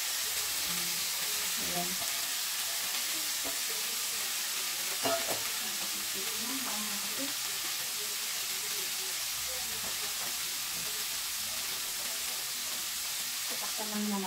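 String beans sauté in a pan with fish and soy sauce, giving a steady hissing sizzle with soft stirring clicks and scrapes, close by, while a voice speaks briefly.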